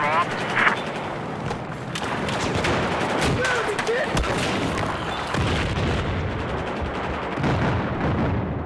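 Explosions and gunfire in the video game Battlefield 4, a dense continuous barrage of blasts and rapid shots mixed with game voices and chatter throughout.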